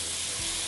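Tomatoes and onions sautéing in oil give off a steady, close sizzle with no talk, a short unbroken stretch of frying noise.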